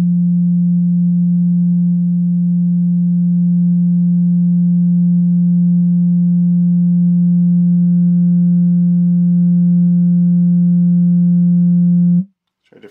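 A steady low electronic tone drives green-dyed cornstarch in a cymatics experiment, holding one pitch with harmonics for about twelve seconds before cutting off abruptly, loud and close with no talking.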